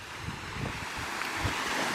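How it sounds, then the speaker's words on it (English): Wind gusting outdoors in the rain near Stainforth, a rough rushing buffet with low thumps of wind against the microphone, steady and close, no voices. "because it's raining, it's windy"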